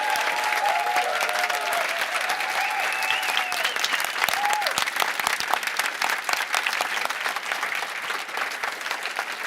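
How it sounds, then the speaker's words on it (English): A conference audience gives sustained applause for David Pollard, dense steady clapping from a large crowd that runs the whole time with no talk over it. "A big round of applause for the glue in all of this, David Pollard"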